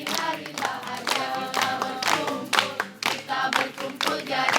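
A church congregation clapping along in a steady rhythm during joyful worship singing, sharp repeated hand claps over music, close and lively throughout.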